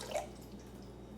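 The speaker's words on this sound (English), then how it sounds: "when you pour water, it actually is quite contained" Water poured from a Brita pitcher, heard as a brief, soft, contained trickle with a faint drip-like splash, quiet and close with no voices.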